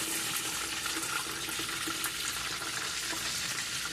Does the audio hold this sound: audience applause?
no